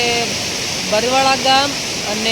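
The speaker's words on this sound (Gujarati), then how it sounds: "તમને પાણીનો અવાજ આવતો છે" A flooded village stream rushes nearby with a constant broadband roar, while someone talks over it.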